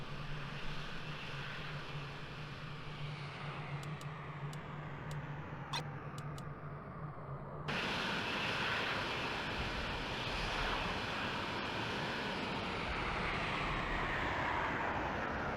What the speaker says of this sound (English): there are some F-16s just being prepared for the takeoff